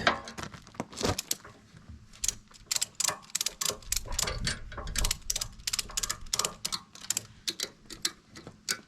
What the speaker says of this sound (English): Crank it back there, Gav.